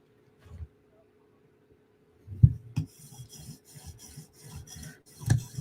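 A Chris Reeve Umnumzaan tanto knife is drawn across high-grit polishing stones, giving soft, faint, repeated rasping strokes in an even rhythm after a quiet start, with low talk underneath.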